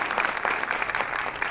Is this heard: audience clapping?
yes